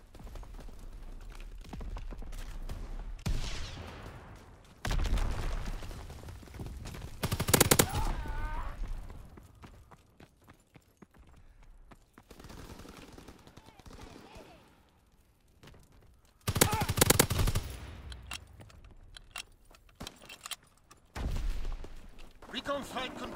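Bursts of gunfire in the World War II shooter game COD WW2, including a Volkssturmgewehr rifle, coming in scattered volleys with quieter stretches between, mixed with game radio voices.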